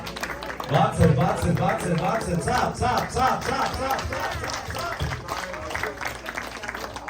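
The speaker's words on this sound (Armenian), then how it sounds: "Ծափահարում ենք Յուրայի համար, բարձր" A crowd applauding Yura at a Father's Day gathering at Ararat adult day health care center: dense, sustained clapping from a roomful of people, mixed with voices and a speaker talking over it.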